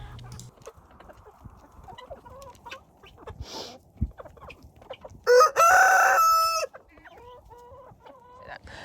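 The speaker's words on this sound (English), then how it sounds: "this was the chickens enjoying the apple skins" Chickens cluck and murmur nearby in scattered bursts while eating apple skins, then one rooster lets out a loud, drawn-out crow before the soft clucking resumes.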